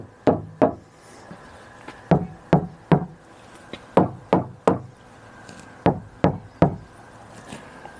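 Knocking on the doors of a camper van, a series of sharp, hollow wooden-sounding raps in small clusters of two and three, loud and close, with short pauses between groups and no talking.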